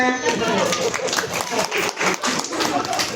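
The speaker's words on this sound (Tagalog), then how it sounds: "may palakpakan naman muna for Best Friend Jollibee" Audience clapping for a Jollibee mascot at a party event, scattered, uneven hand claps heard alongside voices talking in the crowd.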